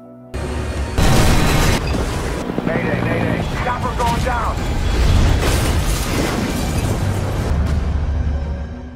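A loud, heavy landmine blast erupts, followed by a sustained deep rumble under dense, dramatic background sound.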